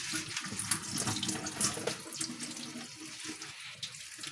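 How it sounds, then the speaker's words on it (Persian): A kitchen tap runs while chopped garlic leaves are washed in a bowl, the stream splashing and gurgling steadily with small shifts as the water is stirred, close and moderately loud with no talk. "بعد از اینکه خوردشم کردین ریز دوباره توی یه ظرفی بریزین بشورینش"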